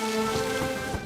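Rain falls on and around a bird's nest in the wild, a soft steady patter of drops with a few slightly louder taps, alongside faint tonal background sounds and no talking.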